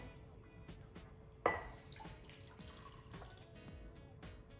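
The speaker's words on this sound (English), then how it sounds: "And then you're going to add your water." Water poured into a cup of dye and vinegar for egg dyeing, a quiet splash followed by soft trickling and drips, close and faint.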